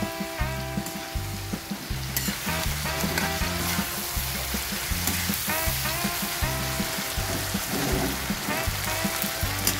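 Chicken liver and gizzard adobo sizzles loudly in a pan while being stirred, a dense crackling fry with repeated clanking utensil strokes against the pan throughout, no talking.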